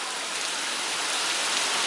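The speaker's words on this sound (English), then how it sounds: "it is raining like crazy" Heavy rain pours steadily during a cold, windy storm in Guttenberg under a flood warning, a dense, constant close hiss of water hitting surfaces with no voices.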